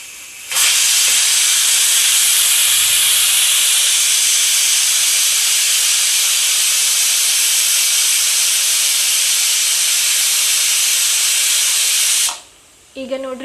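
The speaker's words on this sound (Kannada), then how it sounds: "ಈಗ ನೋಡ್ರಿ 1 ಸಿಟಿ ಆಗೈತಿ" A pressure cooker lets out one long, loud, continuous whistle of hissing steam for about twelve seconds, then cuts off abruptly, leaving a brief quieter clatter.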